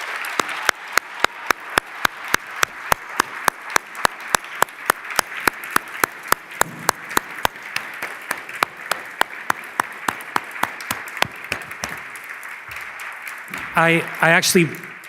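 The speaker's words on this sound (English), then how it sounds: "Please give a round of applause." A conference audience at a lecture gives a sustained round of applause, sharp evenly spaced claps that ring out loudly and steadily before tapering off, with a voice starting to talk near the end.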